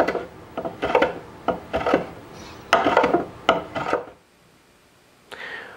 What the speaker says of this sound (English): I'm just gonna do that with my block plane with the stool turned on its side